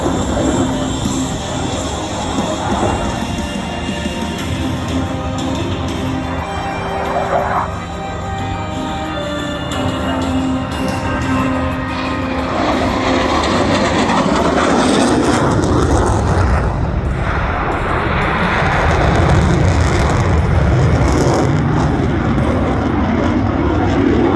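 An RAAF F/A-18 Classic Hornet jet roars loudly and continuously through a high-speed pass at an airshow display, its engine noise swelling and rumbling throughout with no break.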